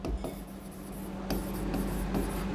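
Marker or chalk writing on a classroom board during a chemistry lesson, heard as soft scratchy strokes in a few short bursts over a low steady room hum, with no voice.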